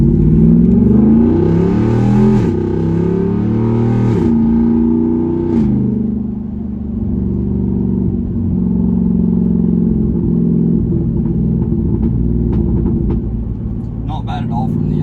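Straight-piped Jeep Wrangler Rubicon 392 exhaust under mild acceleration, a loud, deep rumbling drone rising and falling through gear changes, steady and close throughout.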